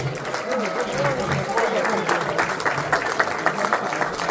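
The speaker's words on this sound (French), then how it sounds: "je pense qu'il mérite nos applaudissements." Audience applause for a university professor at a community gathering in Canada, a continuous patter of clapping mixed with talk and crowd murmur.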